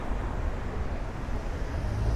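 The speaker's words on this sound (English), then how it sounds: "This is just a little bit of a visual of just how windy it is tonight." Strong night wind blowing across the microphone on South Beach, Miami, a steady broadband roar with low rumbling gusts and no voices, continuous for the whole stretch.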